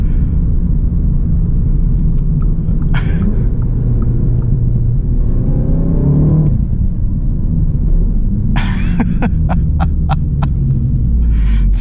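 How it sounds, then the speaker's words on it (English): An Audi A1 40 TFSI's four-cylinder engine revs hard while driving, a loud deep rumble climbing through the gears from inside the cabin, with brief clicks and taps breaking in near the end. "Such a revy motor. These E888 engines really love to rev."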